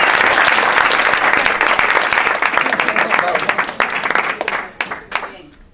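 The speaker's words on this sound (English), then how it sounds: "Clap for Dean." Applause from an audience at a building-trades training seminar, loud, dense clapping filling the room and thinning out toward the end.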